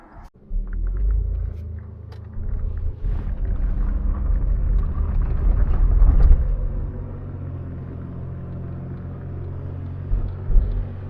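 Austin 3-Litre saloon with a lazy automatic gearbox driving along, giving a steady, close, low engine rumble that swells slightly around the middle before settling back, with no talking.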